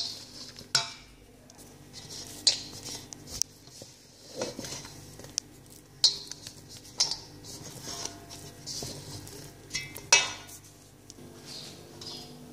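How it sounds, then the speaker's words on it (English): Spoon scraping and clinking against a bowl while stirring chocolate chip cookie dough with flour and chocolate chips, a series of irregular soft knocks and scrapes, fairly quiet and close. "stir again until the dough comes together"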